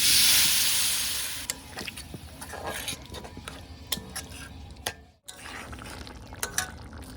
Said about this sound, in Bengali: এখানে আমি জল নিয়েছি, দিয়ে দেবো এখানে পরিমাণ মতো জল